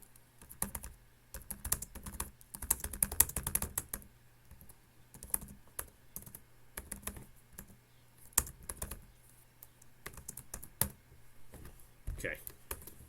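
Bursts of computer keyboard typing as Java code is entered, quick irregular keystrokes clustered in runs with short pauses, moderately close, with light room hum underneath.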